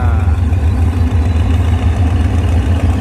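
A Hitachi diesel locomotive engine revs, rumbling loudly and steadily close by, a deep throbbing drone with some clatter.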